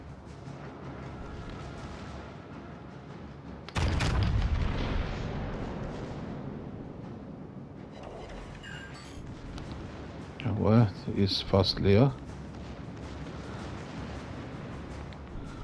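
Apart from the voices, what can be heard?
Yamato battleship guns firing in World of Warships video game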